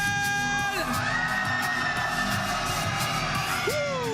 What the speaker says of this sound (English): Santiago, griten con el alma